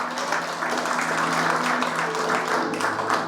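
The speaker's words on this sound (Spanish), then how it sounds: "Denle un aplauso al Señor" A church congregation applauds during a baptism service, a dense sustained wash of clapping from many hands filling the room, with a faint voice or hum underneath.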